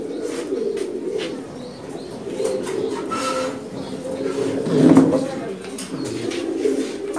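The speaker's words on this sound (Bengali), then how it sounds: "এটা একটা মাদি কবুতর" A female pigeon of the chorui type coos in low rolling calls at a busy Dhaka pigeon market. Voices talk in the background, and the cooing swells louder around the middle.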